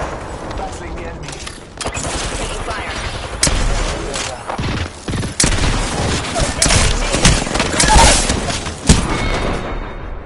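Dense video game battle gunfire with bursts of shots and booms building over the whole stretch, loud and close, while voices speak through the fighting.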